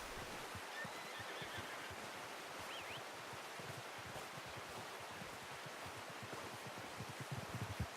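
A horse in Red Dead Redemption 2 gives a faint whinny against a steady wash of wind-like outdoor ambience, with soft muffled thuds and no talking.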